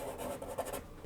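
Charcoal pencil scratches across a porous wooden surface, a short run of dry rubbing strokes heard close up and fairly quiet, with no voices.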